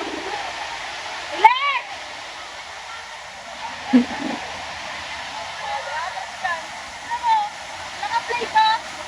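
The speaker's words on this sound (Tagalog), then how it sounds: "Talon!" Balagbag Falls pours in a steady rushing wash of water, heard up close beneath shouted voices and a few sharp exclamations.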